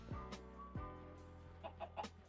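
A chicken in a hardcore survival video game clucks several times in short, close bursts over steady background game ambience. There is no talking.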